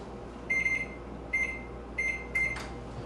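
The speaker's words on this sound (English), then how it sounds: "I'm going to put that in the microwave for just about 10 seconds, just to kind of soften it real well" A microwave oven softening cream cheese and butter ends its cycle with four loud, evenly spaced electronic beeps, the last followed by the door opening, over a steady low hum.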